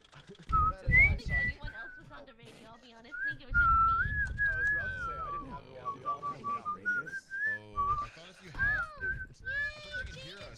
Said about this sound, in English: Sorry, I'm whistling. It's a good song,